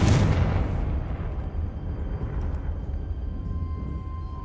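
A Confringo spell blast in Hogwarts Legacy erupts in a loud, close boom that rolls off into a long, rumbling decay lasting several seconds, with no other sounds over it.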